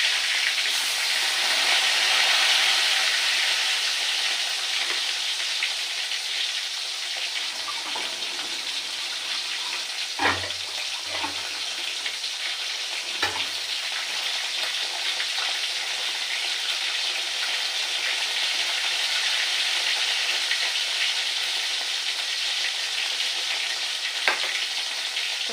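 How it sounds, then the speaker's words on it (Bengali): Fish sizzling in hot oil, four pieces going into a pan together for a Bengali okra curry, with a steady loud frying hiss throughout and a few brief clatters partway through. "মাছগুলো একটু ভাজা করে নেবো বেশ ভালো করে"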